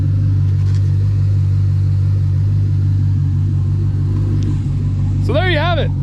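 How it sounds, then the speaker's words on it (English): Deep, steady exhaust rumble from a 2011 Chevy Camaro SS with aftermarket exhaust, loud and close, idling evenly with a brief rising tone near the end. "And you can really hear the rumble."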